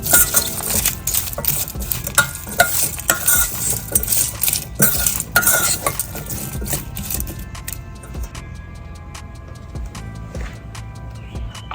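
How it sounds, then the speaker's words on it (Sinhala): A spoon stirs turmeric into Bombay biryani ingredients in a pot, making repeated scraping and clinking strokes at close range. The stirring is steady and busy at first, then eases into lighter, sparser taps. "මේක හොඳින් කලවම් කරගමු ටිකක්"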